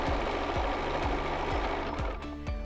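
Sewing machine stitching decorative-stitch binding onto a quilt, a close, loud, rhythmic mechanical whirr with regular clunks about twice a second, heard alone.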